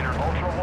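Video game gunfire in Call of Duty DMZ: a short, heavy booming shot or burst with a low rumble, heard under a voice.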